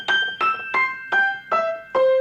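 Six bright notes high on the keyboard of a Coloratura EX 151W grand piano are struck one after another at an even pace, each ringing briefly before the next.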